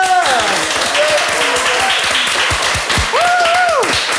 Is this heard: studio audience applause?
yes